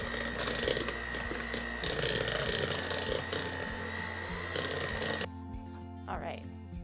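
An electric mixer creams vegan butter and oil in a bowl, a faint steady motor whir with light clatter that stops abruptly near the end, followed by brief quiet.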